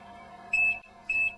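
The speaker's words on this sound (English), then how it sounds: "The timer has now timed out" Two sharp electronic beeps from a thermoforming machine's timer as it times out, each lasting about a quarter second, over a steady background hum with no talking.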